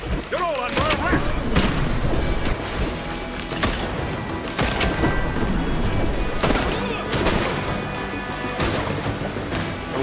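Gunfire and heavy booms crash through an Assassin's Creed Black Flag battle, several loud bursts and impacts spread across the moment with a busy game soundscape between them.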